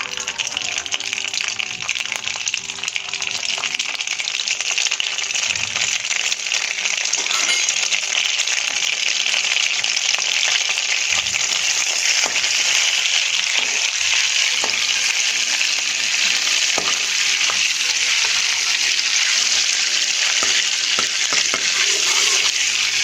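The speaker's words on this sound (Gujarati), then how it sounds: "આપણું તેલ અને બટર થોડું થાય એટલે આપણે પરવર અને બટાકાને એમાં ફ્રાય કરી લઈશું." Parwal and potatoes fry in hot oil and butter in a pan for a Gujarati curry, a loud, steady, close sizzle throughout, dotted with faint scrapes and stirring clicks.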